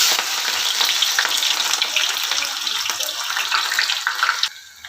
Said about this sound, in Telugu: ఆనియన్స్ ఫ్రై చేసుకోవాలండి ఆయిల్లో. చూడండి, ఆనియన్స్ మెల్లిమెల్లిగా ఫ్రై అవుతున్నాయి.